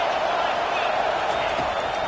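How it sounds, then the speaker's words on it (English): A packed stadium crowd roars at a college football game on third down, a dense, loud, sustained wall of cheering and noise with no breaks. "3rd down, and this crowd is tearing the lid off this place."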